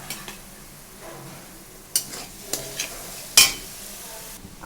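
Onions frying in a pan with ginger-garlic paste for mutton curry, giving a soft continuous sizzle broken by a few sharp utensil clinks and scrapes as the mixture is stirred, with no talk.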